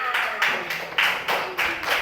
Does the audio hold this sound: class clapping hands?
yes